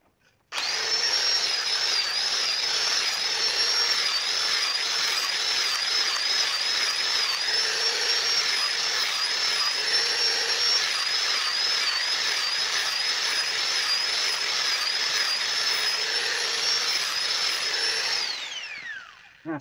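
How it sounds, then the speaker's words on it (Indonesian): Angle grinder working the spine of a steel kitchen knife being reshaped into a fork knife: a loud, steady high whine with an abrasive hiss that runs unbroken for about seventeen seconds, then winds down. "Untuk bagian punggungnya ini mas ya, ini kita gerinda biarkan agak panas tidak apa-apa ya mas ya, supaya nanti lebih kuat."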